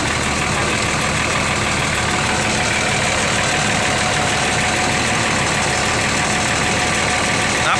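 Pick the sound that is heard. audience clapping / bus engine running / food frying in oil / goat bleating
bus engine running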